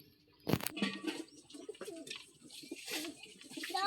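Pigeons with unusual eyes coo in a low, rumbling murmur repeated through the clip, close by, with a sharp flapping or clatter burst near the start and steady loft noise beneath.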